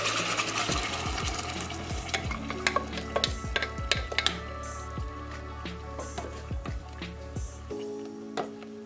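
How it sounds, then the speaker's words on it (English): Blended fresh garden tomato puree goes into a pan with seafood and mussels and is stirred, a steady sizzle and frying hiss under repeated clicks and scrapes of a utensil, fairly close, with no talk. "now goes in the tomato puree what we blended"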